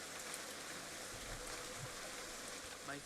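Steady rain in the video game Nancy Drew: Secret of the Old Clock patters and hisses on a surface, constant and close, with no voices.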